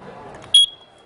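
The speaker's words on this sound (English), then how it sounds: "This is a carbon monoxide detector" A carbon monoxide detector gives a single short, piercing electronic beep, close and loud after a moment of low background noise, then fades quickly.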